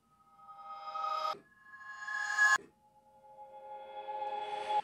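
A reversed instrument sample played in a sampler gives three swelling notes, each rising from silence to a loud, abrupt cutoff, with no talk.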